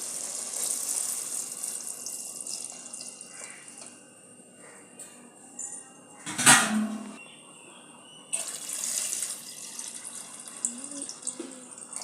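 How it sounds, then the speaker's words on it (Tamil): Water pours and splashes into a bowl of rice while chicken biryani is prepared, with soft intermittent trickles, a brief loud splash midway, then renewed flowing and light drips. "அதே அளவில் ரெண்டு கப் அளவு தண்ணி சேர்த்துக்கலாம்"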